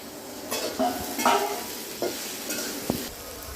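Turmeric, chilli and coriander powder sautéing with onion in oil, a steady sizzle with repeated scraping stirs of a spoon against the pan, close and moderately loud.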